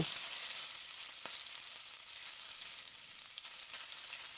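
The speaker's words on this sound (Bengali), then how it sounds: "এখন তেলটা একটু গরম করে নিয়ে এর মধ্যে দিয়ে দিচ্ছি কেটে রাখা আলুগুলো দিয়েও একটু ভেজে নেব" Cut potatoes frying in hot mustard oil in a wok give a steady, close hiss of sizzling with a few brief crackles, with no one talking.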